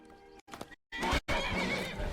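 A horse in the video game Skyrim gives a short, loud neigh and whinny in a couple of bursts, with faint hoof clip-clops, close by and without speech.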